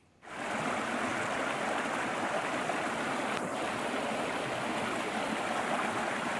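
Buck Creek in Pisgah National Forest, North Carolina, rushing steadily after heavy rain, a dense, continuous broadband water roar that fades in within the first moment and holds at an even level throughout, with no voices.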